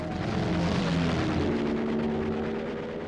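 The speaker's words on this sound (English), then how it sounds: "They could hear the planes coming." World War I aircraft approaching, a loud continuous propeller-engine drone with slowly shifting pitch, steady and close, with no voices over it.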